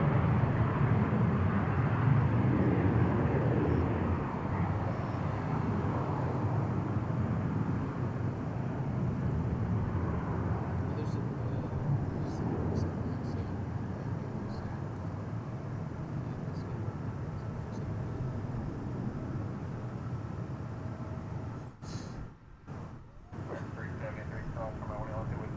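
Emirates airliner passing at Dallas Fort Worth International Airport, a sustained broad jet roar that swells early and slowly fades, with a brief dropout near the end.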